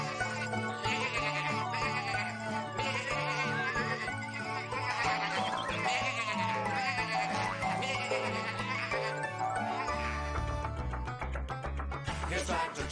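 Cartoon sheep bleat in a Tractor Tom farm scene, several repeated bleats and whinny-like calls over continuous bouncy music, loud and close throughout, no talking.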